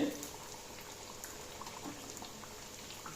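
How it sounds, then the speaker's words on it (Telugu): Pieces of a large freshwater fish fry in a pan with a faint, steady bubbling sizzle, low and continuous, with no clear talking over it. "ముక్కలు కలర్ వచ్చేంత వరకు ఫ్రై అవనివ్వాలండి"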